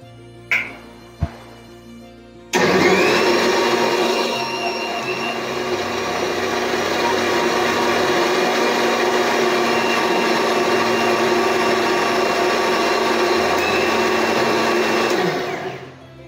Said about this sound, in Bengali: তো চলো এবার মিক্সারে বসিয়ে দিই